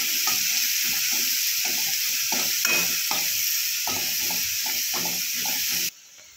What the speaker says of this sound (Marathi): इथे आपली हिरवी मिरची छान परतून झालेली आहे